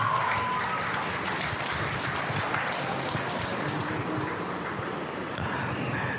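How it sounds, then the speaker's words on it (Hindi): An audience at a Hindi festival award ceremony gives sustained applause to welcome a guest onto the stage, a broad, continuous roar of many hands that stays even and fairly distant throughout. "जोरदार तालियों से मंच पर स्वागत श्रीमती अनिता महतो जी का"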